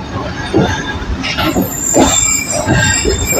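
A train rumbles and rattles along the rails arriving at Jhelum railway station in Pakistan, with wheels squealing and a broad, steady roar of moving carriages close by.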